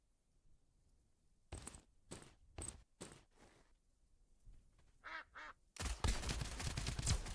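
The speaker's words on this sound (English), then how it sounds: "I heard 2 quacks." Ducks quack in the video game Duckov, two clear quacks among short bursts of game noises, followed by a loud dense burst of in-game gunfire.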